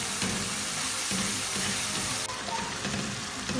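Spiced tomato masala with red chilli powder, crushed red chilli, turmeric and salt frying in a pan for fish korma, giving a steady close sizzle and crackle throughout with no talk.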